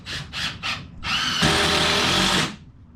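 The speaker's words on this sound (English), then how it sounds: "Tristan, hand me that screws or the drill." A power drill whirs in three quick bursts, then runs in one long, loud, steady spin before stopping, driving screws while framing a walk-in shower in a bathroom remodel.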